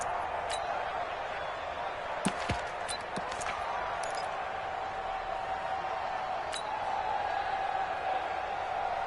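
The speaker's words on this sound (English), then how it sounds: "the crowd getting into it as we come up on a big third down" A stadium crowd in a Colts vs Jaguars football video game keeps up a steady, moderately loud roar, broken by a few sharp thuds and bangs.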